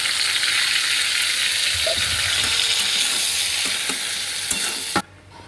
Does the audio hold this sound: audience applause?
no